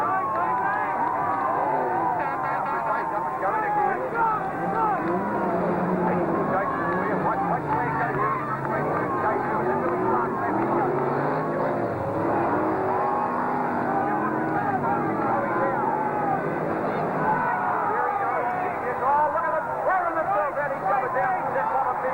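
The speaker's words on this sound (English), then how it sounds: "this is awesome Stockcar racing" Stock cars race around a New Zealand track in a steady, dense roar of engines with continuous crowd babble and commentary mixed underneath throughout.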